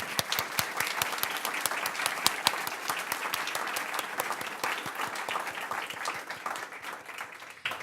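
Audience at a book talk breaking into steady applause, many hands clapping in a dense, even patter that holds throughout and tapers slightly toward the end.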